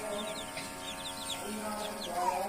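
Hens in a poultry shed give soft, repeated clucks close by under the constant loud whir of a fast-spinning fan.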